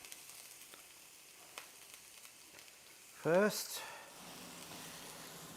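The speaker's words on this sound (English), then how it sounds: "Put the oil in. Righto. Whack the onions in" Onions hitting hot oil in a pan for Italian cannelloni, giving a sudden loud burst of sizzle that settles into a steady, quieter frying hiss; a voice speaks briefly just before.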